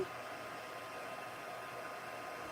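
Hair dryer blowing steadily on mixed media paper, a constant close whoosh of air with no change in pitch, running alone throughout.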